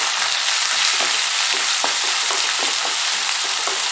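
Chopped onion frying in oil after cumin and mustard seeds, for betel leaf rice: a steady, close, fairly loud sizzle with scattered crackles and spoon scrapes throughout, no voices.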